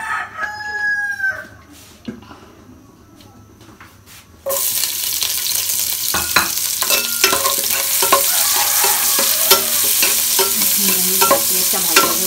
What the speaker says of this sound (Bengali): পেস্টটা ভালোভাবে ভাজা ভাজা করে নেব।